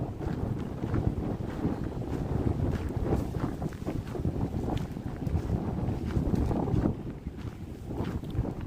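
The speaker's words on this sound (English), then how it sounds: "Windy." Strong gusty wind buffets the microphone in Central Park, New York City, with low, rumbling roar throughout, loud and continuous without talking.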